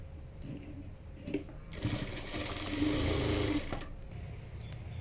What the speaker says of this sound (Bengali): তো এখানে আমি একটি ডাবল সেলাই দিয়ে নিচ্ছি।